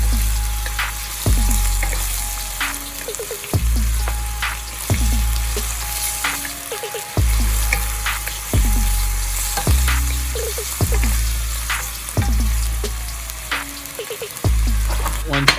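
Shrimp frying in a pan for shrimp fried rice, a steady loud sizzle broken by regular scraping strokes of a spatula about every second and a half, with a faint tonal hum underneath.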